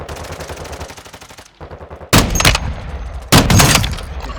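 Rapid gunfire in the video game Warzone 2 comes as a stuttering burst, then two sharp, loud volleys close together.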